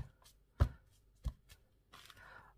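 Foam sponge dabbing on paper during a coloring tutorial, a few soft, close taps at uneven intervals followed by a brief rustle.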